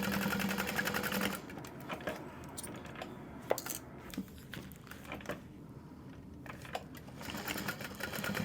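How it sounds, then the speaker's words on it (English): A sewing machine runs in short bursts while stitching a fabric tote bag seam, a fast mechanical whir that stops and starts with small clicks in between, close and fairly quiet. "I like to backstitch when I start, backstitch at the end"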